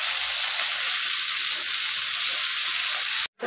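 Chopped onion and tomato hit hot oil with cinnamon, cardamom, cloves and bay leaf, giving a loud, steady sizzle that fills the whole stretch before cutting off abruptly near the end.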